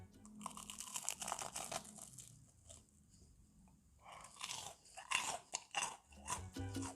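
Crisp, loud crunching of fried shrimp toast (menbosha) being bitten and chewed close up, a run of sharp crackly bites followed by a brief quieter pause, then more bursts of crunchy chewing.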